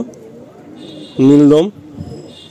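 A pigeon from a home loft coos close by in a single short, rich, warbling call, with quiet background noise before and after.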